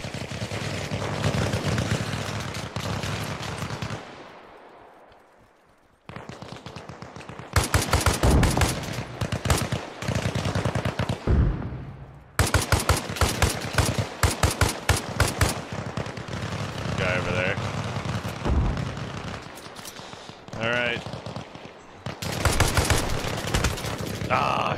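Rapid bursts of automatic and single-shot gunfire from the Arma Reforger military shooter, loud and close, repeating in clusters across the clip after a brief quiet gap, with a player occasionally talking.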